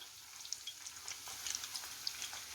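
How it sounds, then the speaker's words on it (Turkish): Quiet, steady sizzling of cauliflower frying in oil, with scattered small pops and crackles throughout. "Evet şimdi bunlar kızara dursun."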